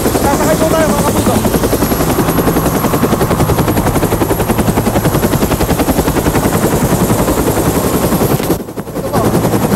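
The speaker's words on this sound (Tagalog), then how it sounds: "personal natin susundan ang MG-520 attack helicopter" An MG-520 attack helicopter flies close, its rotor a loud, steady, rapid chopping pulse that fills the whole stretch, dipping briefly near the end.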